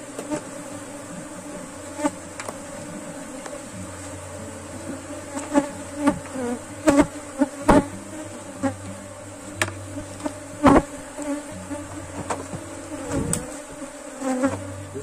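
Honeybees drone in a continuous buzz around a hive as it is closed, with wooden knocks and clicks from the box close by and no talking.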